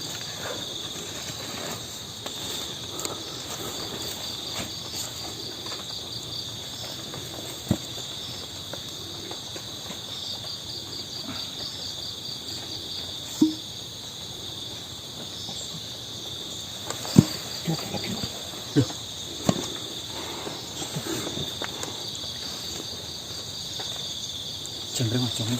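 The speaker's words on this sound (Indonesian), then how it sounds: "Jangkrik Mas." Crickets chirp in a continuous high, steady trill throughout, with occasional brief clicks and knocks nearby and faint background activity.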